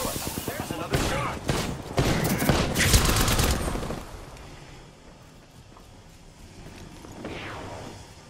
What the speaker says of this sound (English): There's another shot.